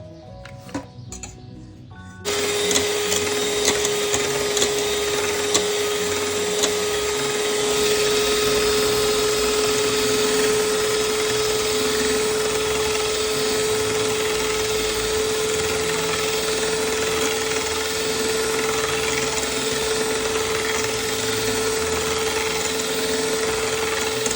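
An electric hand mixer whirs steadily and loudly while beating cake batter with a little oil added, starting after a brief pause and running as one continuous high-pitched motor drone with faint rattling against the bowl.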